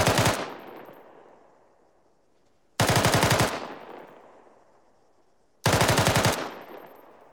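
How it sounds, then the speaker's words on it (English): An M249 SAW machine gun fires three separate sustained bursts, each a dense rattle of rapid rounds lasting about half a second, loud and close, with a long echoing tail after each burst and no voices. "with a saw, sustained rate of fire sounds something like this"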